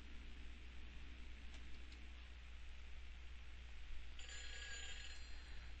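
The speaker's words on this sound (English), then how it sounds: "Oh, the phone's ringing." Telephone ringing in Silent Hill 4, heard faintly over a steady hiss of background noise, with a bell-like ring emerging near the end.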